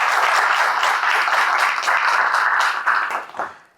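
An audience applauds the Lycée Fortuné Audat team at a quiz match, with dense, loud clapping that carries steadily and then fades off near the end.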